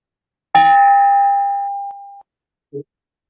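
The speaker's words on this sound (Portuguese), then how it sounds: "bater o sino, homenageamos o pavilhão" A meeting bell is struck once, ringing out loud and clear with a long metallic decay, followed by a short faint tap a moment later.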